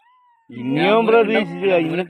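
A cat meows loudly and close by in one long, wavering cry after a brief quiet moment.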